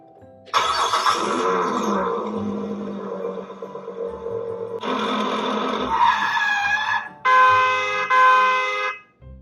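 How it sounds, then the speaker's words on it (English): A car engine cranks and starts up loud and close, its rising roar running for several seconds, then cutting out before a second and third burst of revving, with a brief horn-like tone near the end. "That was the car engine or makina."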